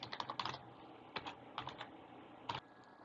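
Quiet bursts of computer keyboard typing come in short clusters of keystrokes separated by brief pauses.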